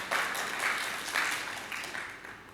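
A church congregation clapping during a Sunday service, a broad rush of applause that swells in several waves and slowly fades over a couple of seconds, heard from some distance.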